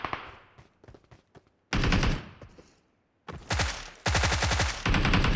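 Automatic gunfire from a PUBG Mobile match on the Erangel map, with bursts and longer sustained strings of loud rapid shots separated by short quieter gaps, heard alone without speech.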